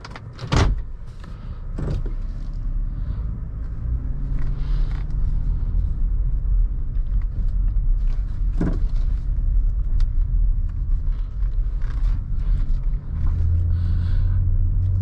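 A 2018 Toyota Highlander XLE driving on the road, heard from inside as a low, steady rumble of tires and drivetrain with occasional clicks and creaks of the cabin.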